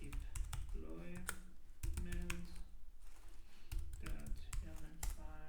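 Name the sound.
typing on a computer keyboard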